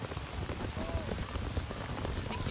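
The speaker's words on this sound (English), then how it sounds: "I think you might actually be able to hear the rain, as it is just pouring here in Cary, North Carolina." Heavy rain pours down outdoors during a soccer match in Cary, North Carolina, a dense, steady hiss of drops hitting the ground that fills the whole clip without a break.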